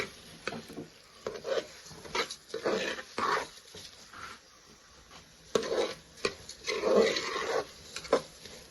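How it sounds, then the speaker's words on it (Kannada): Washed rice frying with masala spices in a pan for egg biryani, stirred with soft scraping, shuffling strokes and occasional knocks against the vessel, moderately close and irregular. "ಇದು ಮಸಾಲೆಗಳ ಜೊತೆ ಚೆನ್ನಾಗಿ ಮಿಕ್ಸ್ ಆಗುವಂತೆ 5 ನಿಮಿಷವರೆಗೆ ಈ ಥರ ಫ್ರೈ ಮಾಡಬೇಕು."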